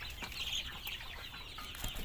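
Sonali chickens on a farm cluck softly and sporadically amid a dense, faint murmur of a flock, with no voices present.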